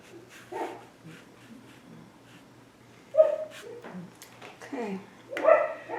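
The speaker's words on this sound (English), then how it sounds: "sorry about the puppy noises" A puppy whimpers and yips in short bursts, then lets out a couple of louder barks near the middle and end, with soft background noise and a little human voice mixed in.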